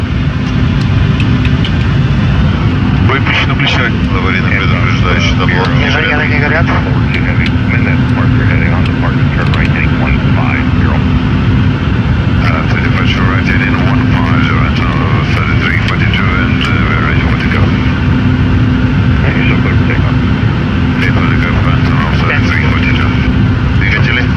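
Aircraft engines roaring loudly and steadily during takeoff, a dense continuous drone that fills the whole stretch while crew voices talk over it.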